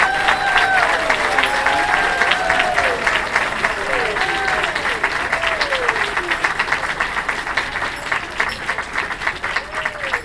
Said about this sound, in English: Please join me in applauding all of our recipients.